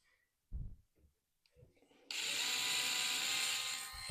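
A power drill bores into glossy ceramic tile, with a few quiet knocks and short sounds first. Then a loud, steady high-pitched whine starts halfway through and runs to the end.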